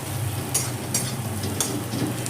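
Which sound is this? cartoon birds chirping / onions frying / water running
onions frying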